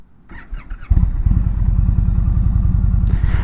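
An Indian Springfield motorcycle cranks with a few quick clicks, then its engine catches and settles into a loud, close, throbbing idle with a rhythmic pulse.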